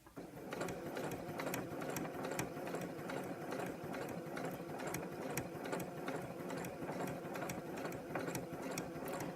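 A sewing machine runs at a fast, steady pace while stitching fabric to make a pencil case, a continuous close mechanical rattle with no pauses or voices.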